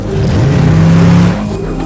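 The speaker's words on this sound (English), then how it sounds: "you hear the car entering on the right, and then you hear the sound balancing in to the center" A car sound effect moving from right to center, a brief loud engine rev that rises and then drops away over about two seconds, with no voices.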